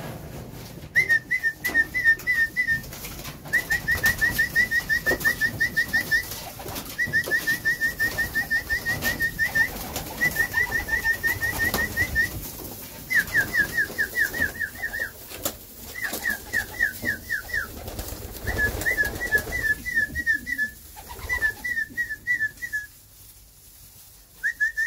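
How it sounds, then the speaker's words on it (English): Racing homer pigeons are let out of a loft, with a run of repeated chirping, whistle-like calls in short bursts over a steady background hiss, fairly loud and close, with no talking. "Can you let the birds go, Mr. Ali?"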